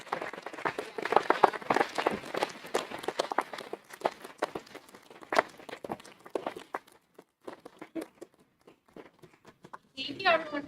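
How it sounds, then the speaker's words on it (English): Audience at a school board of education meeting claps for fall sports programs, a scattered, uneven burst of handclaps that thins out and fades to a few claps, with voices at the end. "can we have one more round of applause for all of our fall sports programs?"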